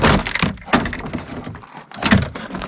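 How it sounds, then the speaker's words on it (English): Plastic clips pop and thunk as a Ford Ranger door panel is pulled straight up, with two or three sharp bursts of rattling and scraping close by and no talking. "Pull straight up on the door panel."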